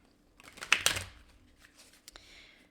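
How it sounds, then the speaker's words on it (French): Cards drawn from a deck during a love tarot reading make a brief papery rustle and snap, with a loud flurry near the start and fainter slides afterwards, alone in a quiet room. "Je vais aller chercher 2 cartes d'ici."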